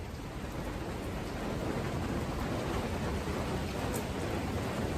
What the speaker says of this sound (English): Yeah, it's raining, y'all. It's raining.